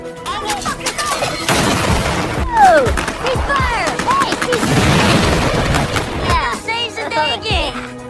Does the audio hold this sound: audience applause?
no